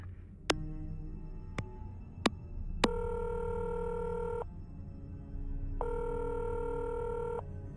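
Telephone tones sound in a Nancy Drew video game: a few sharp clicks, then a long electronic beep, a pause and a second matching beep, clear and alone with no talk.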